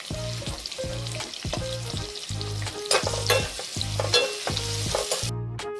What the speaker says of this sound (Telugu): ఉల్లిపాయలు మనకి గోల్డ్ కలర్ వచ్చేటట్టుగా బాగా వేయించుకోవాలండి.